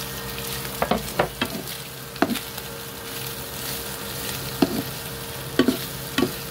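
Tofu (tokwa) fries in a pan with a soft continuous sizzle, broken by several sharp scrapes and stirs of a utensil. No one speaks.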